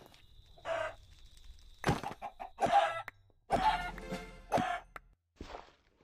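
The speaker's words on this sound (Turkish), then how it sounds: "Tavuklara veda edelim." Minecraft chickens cluck in short separate bursts, several scattered calls fairly close and clear against an otherwise quiet background.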